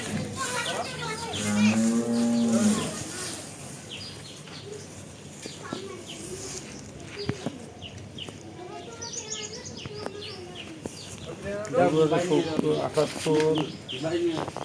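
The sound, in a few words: cattle mooing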